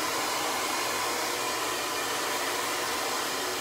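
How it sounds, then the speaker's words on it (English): A hair dryer blow-drying hair with a flat brush roars in a constant, loud, close whoosh without pause, with no voices. "pull that hair forward and blow dry just at the root"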